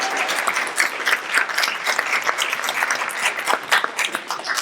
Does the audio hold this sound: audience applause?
yes